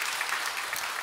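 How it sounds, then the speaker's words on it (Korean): A church congregation applauds during a Sunday service to welcome a newly arrived pastor: a brief, steady burst of many hands clapping together, dense and even, with no talking over it. "박수로 격려하겠습니다"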